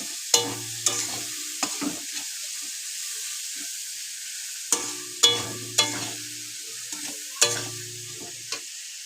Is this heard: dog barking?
no